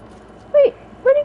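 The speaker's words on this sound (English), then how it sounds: "Oh my gosh, it's a goat!" Two short bleats from a goat in a video game, each a brief wavering cry, the second clipped at the end, over a quiet background.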